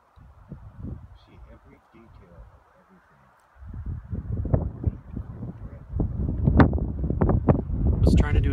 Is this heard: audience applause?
no